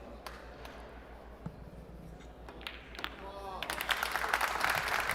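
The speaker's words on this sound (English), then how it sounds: "Yeah, round of applause from them." A pool hall audience at the 2022 Predator World 8-Ball Championship breaks into applause after a shot, swelling over the last second or so beneath a commentator's voice, with a few scattered taps and knocks earlier.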